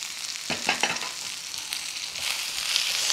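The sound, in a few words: stir frying raw mango pieces with ginger garlic paste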